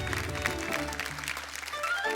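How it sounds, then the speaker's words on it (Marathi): An audience claps and cheers on a Marathi TV game show, a brief dense burst of applause over a bed of background music. "एकदा जोरदार टाळ्या होऊन जाऊ दे."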